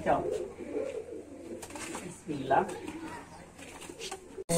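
Pigeons of the Taura bloodline coo in soft, rolling bursts at close range, with someone talking over them throughout.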